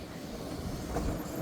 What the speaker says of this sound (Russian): Трамвай здесь не один.